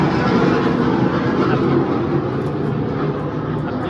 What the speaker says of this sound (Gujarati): પ્લેન હમણાં બહુ અવાજ કરે નથી લાગતું.